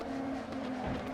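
Race car tyres sliding and scrubbing in an Assetto Corsa community racing game, a steady tyre squeal riding over the constant engine drone for about a second.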